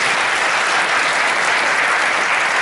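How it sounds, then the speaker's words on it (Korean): An audience at a 2015 Gumi academy association training seminar for lifelong educators applauds loudly and continuously, a dense, even clapping that fills the whole moment. "박수 쳐주십시오."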